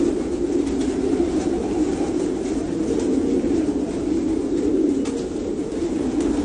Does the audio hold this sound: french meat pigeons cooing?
yes